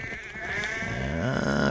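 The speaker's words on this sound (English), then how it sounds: "And hello, sheep." Sheep in the video game Assassin's Creed Valhalla give a long, wavering bleat that rises near the end, close and fairly loud, with no talking.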